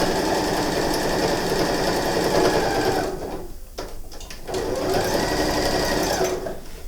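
A sewing machine runs steadily, stitching a narrow safety seam along the edge of a mitred-corner patchwork floor towel, pausing briefly mid-run before resuming its fast, even mechanical rattle up close.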